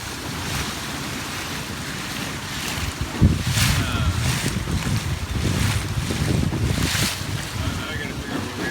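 Electric dinghy running at full throttle on open water, with wind buffeting the microphone, splashing spray and rushing water dominating, and brief voices amid the steady roar.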